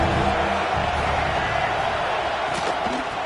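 A stadium crowd at an American football game roars steadily before a big third-down defensive play, a dense, continuous wash of cheering that stays loud throughout, with a few faint thuds near the end.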